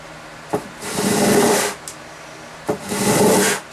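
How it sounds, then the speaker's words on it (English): Guitar frets are sanded level with strokes along the direction of the strings, two long rasping rubs close by, each opening with a sharp scrape and separated by a brief pause. "sand in what would be the direction of the strings."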